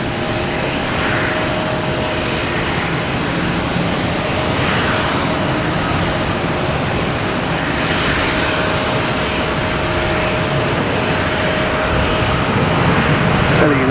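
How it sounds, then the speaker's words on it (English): Continuous loud roar of a Delta Airbus A321 jet arriving at Boston Logan Airport from Minneapolis, a broad, steady rumble that holds close and strong throughout, with an outdoor airport background. "Here's Delta coming in from Minneapolis, an A321."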